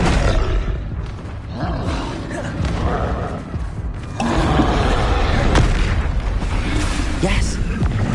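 Explosive booms from the Bombarda spell in Hogwarts Legacy, a loud, dense run of rumbling blasts and crackling bursts that fills the whole stretch, swelling stronger in the second half amid continuous game effects.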